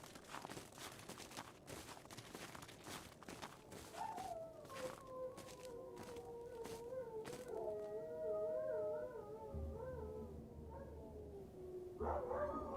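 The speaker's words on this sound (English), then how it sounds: "Oh, that's our dogs." Video-game dogs bark in a quick run of sharp yaps, then whimper and whine in long wavering tones, heard fairly faint against a low background.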